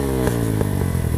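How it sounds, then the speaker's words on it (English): A Pulse Adrenaline 125 motorbike engine starts and settles into a close, loud, steady running note with rough popping pulses at a quick rhythm. "I just bought a motorbike, a Pulse Adrenaline 125."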